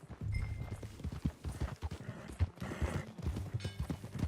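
Rhythmic horse hooves clip-clop steadily at a trot in Red Dead Redemption 2, close and fairly loud, with faint creaks of tack mixed in.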